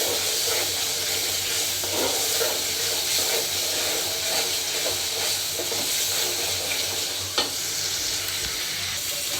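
Potatoes tipped into spices frying in a pan give a steady, loud sizzle and hiss, with scraping stirs and one sharp clink near the end.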